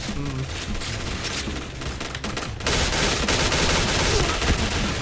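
Pindad SS3 rifle firing in the video game Point Blank, dense bursts of gunfire mixed with other game shots, growing louder and more continuous halfway through.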